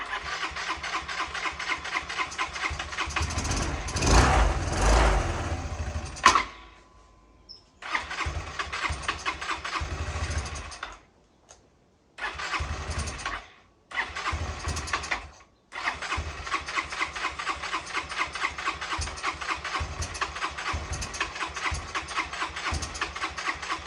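A Yamaha Vino 125 scooter that sat unused for years, its carburetor freshly cleaned, cranks and catches, then idles and revs in loud bursts with several abrupt cut-outs and restarts before running steadily, close to the recorder.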